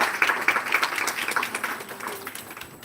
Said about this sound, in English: Let us welcome Miss Aparna Sheikh with a big round of applause.